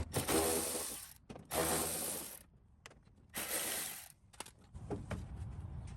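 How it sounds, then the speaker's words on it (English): A Milwaukee ratchet turning a 10mm socket to remove mud flap bolts on a Toyota Tundra, giving three loud, close bursts of fast mechanical ratcheting separated by short pauses, with no talking. "I'm going to use my Milwaukee ratchet and a 10mm socket"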